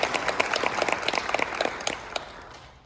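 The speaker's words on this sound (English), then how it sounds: "Big round of applause." Audience applause at a tech event after a keynote speaker, a dense crowd of claps heard from some distance, steady for a couple of seconds before fading away.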